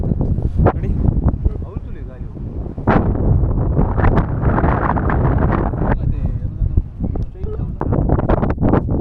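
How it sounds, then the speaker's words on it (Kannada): Strong cold wind buffets the microphone on a hilltop on the route from Ujire to Rani Jhari, a loud continuous roar with rumbling gusts and rustling throughout. "ಅಷ್ಟು ಗಾಳಿ ಬರ್ತಾ ಉಂಟು ನೋಡಿ"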